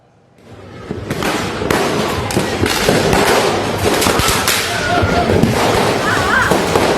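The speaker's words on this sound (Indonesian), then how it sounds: "Perang petasan terjadi di Jalan Kerung-Kerung, Kota Makassar, Sulawesi Selatan." Firecrackers burst nonstop in a street firecracker war on Jalan Kerung-Kerung in Makassar, South Sulawesi, a loud dense crackle of overlapping pops and thuds that swells after a quiet start and keeps going.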